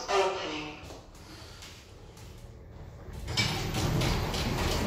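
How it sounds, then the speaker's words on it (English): A 2000 Kone lift at Leeds railway station platforms slides its doors open with a soft mechanical rumble that swells near the end, set against station ambience. "Doors opening."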